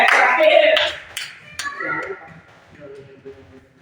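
Brief burst of clapping from students in a madrasah classroom, a few sharp claps fading quickly as children's voices and talk continue.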